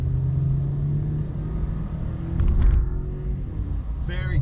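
The 2.7L turbo four-cylinder of a 2019 Chevrolet Silverado LT 4x4 hums steadily while driving on country roads, swelling briefly in a low rumble, with a person talking inside the cab.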